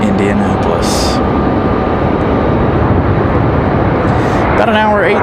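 An Endeavor Air airliner from Indianapolis passes behind the terminal at Raleigh-Durham International, a loud, continuous broadband engine roar with a thin tonal whine, unbroken throughout.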